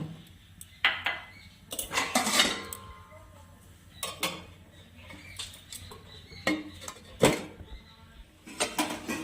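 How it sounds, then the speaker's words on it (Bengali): Metal pot lid clatters and clinks against a cooking pot of spinach, with several sharp knocks and scrapes spaced through the moment, close and fairly loud. "এবার এটাকে ঢেকে দিব।"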